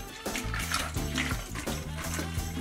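Water pours steadily into a toy pretend swimming-pool spa for dolls, a continuous close splashing trickle heard over tonal background music.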